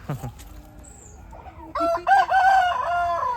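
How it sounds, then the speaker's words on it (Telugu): A few short clucks come first, then a loud rooster crows nearby in a long, wavering call, at a poultry-rearing spot in a mango orchard. "ఇది కోళ్ళు పెంపకం అనమాట"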